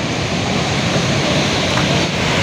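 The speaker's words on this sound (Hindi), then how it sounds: "इतना स्पीड से पानी गिर रहा है" Water pours fast and hard over the Bhole ki Jhal canal weir, a steady, loud, broadband roar of rushing, churning water close by with no talking.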